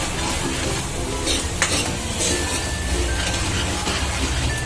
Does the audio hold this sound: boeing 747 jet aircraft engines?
no